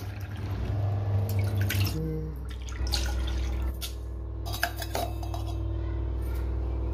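Water goes into a pot for tea in a home kitchen while dishes and cutlery clink, with scattered sharp metallic taps and drips over a low steady hum.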